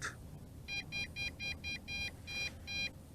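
A JJRC X8 Cetus drone gives return-to-home warning beeps: about nine short, evenly spaced electronic pips in a steady rhythm, faint and alone against low background noise.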